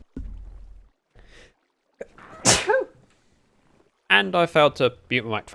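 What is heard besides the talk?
sneeze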